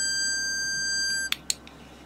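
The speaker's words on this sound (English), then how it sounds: "It's a bit annoying how that buzzer makes all that noise." A buzzer on a Maxitronix 20-in-1 electronics kit drones with a steady, shrill, multi-toned electronic tone for over a second, then cuts out, leaving two or three short clicks and faint room noise.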